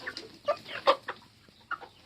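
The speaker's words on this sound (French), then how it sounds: "Et j'ai les 3 coqs aussi en Favrol" Faverolles chickens with three roosters in a backyard flock cluck in a quick series of close, bright calls with short pauses, standing alone without any talk.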